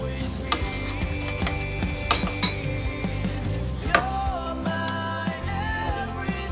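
A spoon stirs sugar into a sauce over low heat in a pan for chicken feet with black bean paste, making clinks and scrapes against metal at an uneven pace, close up, with no talk.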